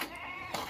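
Goats bleat in a brief, faint burst near a rural house, one wavering call followed by a second short cry.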